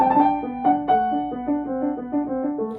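Piano phrase, played with the left hand, in which quick alternating notes form short trills that repeat several times in an even, moderate rhythm, clear and close with no talking.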